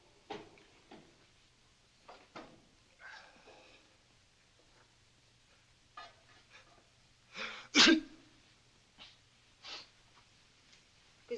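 A single loud sneeze stands out near the middle of a quiet indoor scene, surrounded by a few faint sniffs and soft breathing noises.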